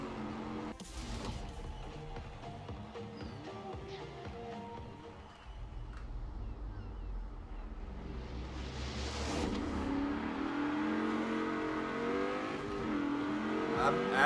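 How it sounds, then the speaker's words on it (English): A Rover SD1 launches hard with a little wheelspin off the line in Forza Horizon 4. The engine roars steadily and climbs in pitch as it accelerates, loud and close throughout. "I'm actually surprised I managed to get a little wheel spin out the line there."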